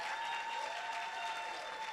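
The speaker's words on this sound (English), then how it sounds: "Please give them all another round of applause." Sustained audience applause at a Prudential Africa conference session, dense steady clapping from a large crowd in a hall, loud and continuous throughout.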